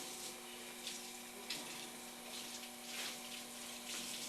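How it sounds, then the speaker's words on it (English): A sponge is rinsed under a running tap into a sink, the water flowing steadily and close by with a few louder splashy surges as it is squeezed and turned, with no speech. "You just have to rinse the sponge out really well."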